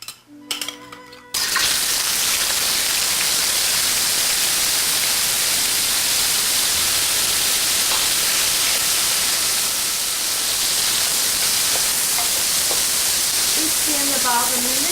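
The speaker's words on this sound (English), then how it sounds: "We're going to cook the shrimp for about a minute until the color of shrimp turns pink" Shrimp frying in hot oil for a Chinese New Year sticky rice cake dish: a loud, steady, even sizzle begins after a brief quiet start and continues unbroken throughout.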